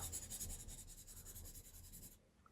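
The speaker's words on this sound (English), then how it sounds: "Now, I'm using these pencils." Pencil strokes scratch and rub across paper in close, steady, continuous motion while a portrait of Admiral Akbar is drawn, with a soft constant hiss behind, ending in a brief pause.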